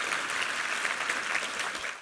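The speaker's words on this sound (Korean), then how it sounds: "우리 하나님께 감사와 영광의 박수 올려드리겠습니다" A church congregation at a Sunday service claps in a dense, steady burst of applause lasting about two seconds, fairly distant and fading at the end.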